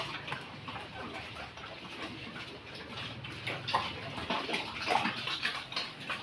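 A power hose sprays water in a hissing, steady rush to clean pig pens on a farm, with irregular splashes and spatters rising and falling over a few seconds.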